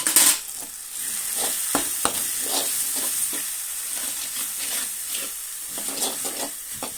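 Grated raw mango cooking in oil with turmeric and salt for mango pulihora, a loud sustained hissing sizzle with repeated short scrapes and taps of a spoon stirring the pan, no voices.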